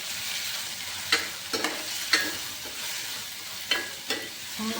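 Finely chopped tomatoes and green chillies sauté in a pan for pasta, a soft steady sizzle broken by several sharp scraping stirs, close and fairly quiet with no talking.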